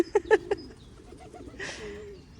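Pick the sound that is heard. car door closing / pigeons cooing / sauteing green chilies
pigeons cooing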